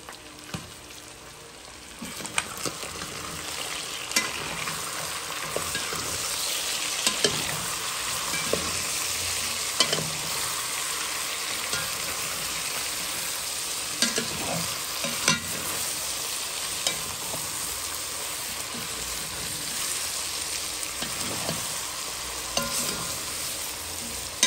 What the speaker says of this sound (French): Voilà, j'ai bien mélangé tout ça.